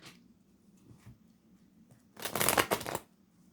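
A deck of tarot cards fanned and spread across a surface, a short papery riffling burst lasting under a second, preceded by faint light handling and soft taps in an otherwise quiet room.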